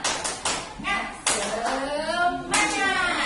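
A group in a school training session performs the rhythmic tepuk semangat spirit clap, sharp bursts of clapping in short patterned runs, close and fairly loud, mixed with voices chanting along.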